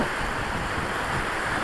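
Floodwater rushes through a washout in Peeples Valley, Arizona, as a dense, steady roar of churning water with wind buffeting the microphone, continuous and loud with no voices.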